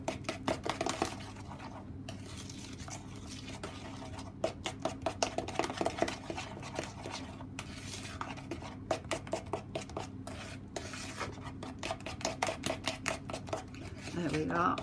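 Eggs beaten for an apple sponge cake batter, with rapid rhythmic tapping of a utensil against a bowl in quick bursts, close by, with a voice talking over it.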